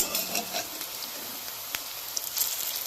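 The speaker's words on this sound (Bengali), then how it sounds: "একদম লাল লাল করে সুন্দর করে ভাজতে হবে" Drumstick-flower (sojne) fritters fry in hot oil, a steady soft sizzle and crackle with a few sharper pops, quiet and close.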